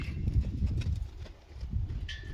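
A horse's hooves clip-clop on the ground during a training demonstration, a few soft, irregular steps nearby over a low background rumble, with no talking.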